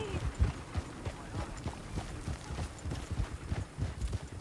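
Horses clip-clop with steady hoofbeats in Red Dead Redemption 2. The beats are moderately close and continuous at a walking-to-trotting pace, with voices speaking over them.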